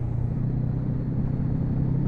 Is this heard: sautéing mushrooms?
no